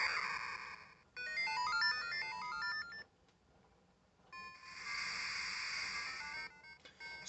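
Beeping chiptune video game music with bass boost plays loud from the speaker of a Handy Boy handheld add-on, in two bursts separated by a short quiet gap.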